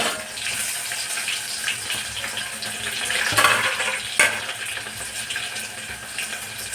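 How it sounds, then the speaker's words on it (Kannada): Water poured into a pressure cooker pot in a home kitchen, a steady close pouring and splashing rush that swells briefly in the middle, with no talk. "ಅದಷ್ಟು ನೀರು ಹಾಕೋಣ"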